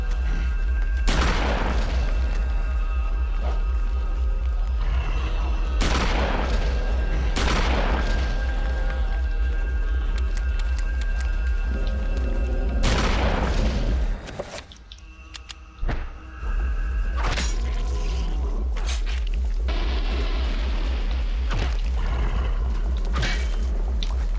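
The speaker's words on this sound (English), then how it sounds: "I could use a shotgun" Heavy shotgun blasts in Eternal Darkness, several loud booming shots spaced a few seconds apart over a constant low game drone, with a brief near-silent gap midway.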